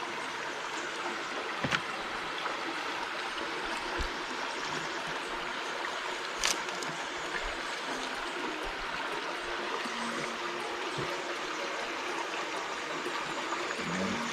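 Running water rinses salted octopus and conch as a steady, faint trickle and splash, with a couple of small knocks and no talk.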